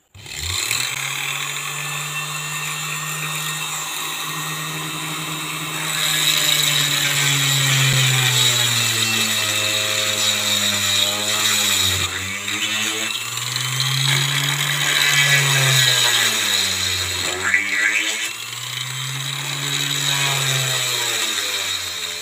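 A sewing machine motor fitted with a homemade drill chuck bores through a wooden board. A steady loud motor whine runs throughout and dips in pitch several times as the bit bites into the wood, with no talking.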